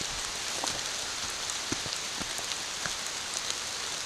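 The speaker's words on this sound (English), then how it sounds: "the rain has gotten bad enough that I broke out the emergency poncho to go along with my hoodie." Steady rain falls through woods along the Vermont Long Trail, a dense, even hiss of drops pattering on leaves and ground with occasional sharper close droplet hits, continuous throughout with no talking.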